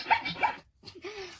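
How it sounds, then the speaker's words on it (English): A zebra call played through a phone speaker, made up of a few short yipping, barking braying bursts, a brief gap, then a drawn-out whining squeal. "Okay, Google, what does a zebra sound like? This is a zebra."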